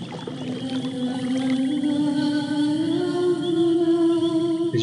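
A Dryad in Quest for Glory 5 sings after being watered, an eerie sustained tonal chorus of gliding, whale-like notes that rises and shifts steadily over a soft ambient bed, with no talking.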